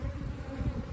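Africanized honey bees in a hive in Arizona, a dense close-up buzzing hum that stays steady and loud throughout the brief moment.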